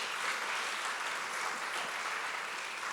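A church congregation giving loud, sustained applause, a dense wash of many clapping hands at steady volume from start to finish, with no voices standing out.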